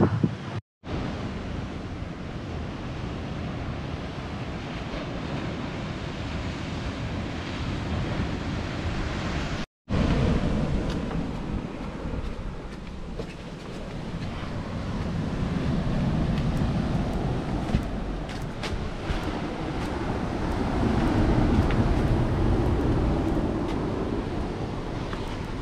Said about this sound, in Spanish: Viento.